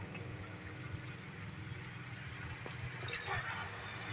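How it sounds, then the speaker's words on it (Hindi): Water from a glass poured into a pot of cooking vegetable curry, a soft continuous splashing and trickle lasting several seconds, quiet and close with no talk. "हम इसके अंदर 1 गिलास पानी ऐड करेंगे।"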